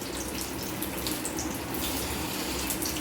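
Food dropped into hot oil gives a dense, continuous sizzle, close and fairly loud, with a watery hiss and no voices.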